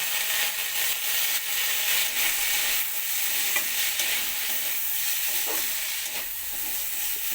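Yardlong beans, pumpkin and potato fry in a pan after a sprinkle of water, giving a loud, steady hiss and crackle that runs without a break throughout, with no voices.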